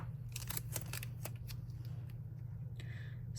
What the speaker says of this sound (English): I'm just going to go ahead and just use my scissors to cut it